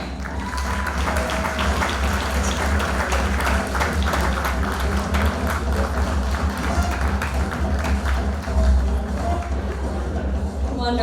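A pageant audience applauds in a steady, dense wash of clapping that fills the room, with voices mixed in underneath the whole time.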